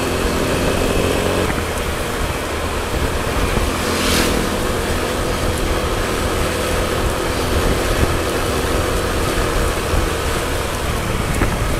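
An old, rattling engine of a small vehicle on a rural road trip in Mindoro keeps running steadily throughout, a continuous rough drone with broadband noise, fairly loud and close, with no talk.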